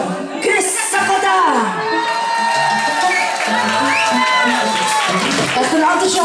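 A live concert audience cheers, whoops and applauds for the drummer being introduced, loud and sustained with shouts and whistles over the crowd, while a voice speaks over it.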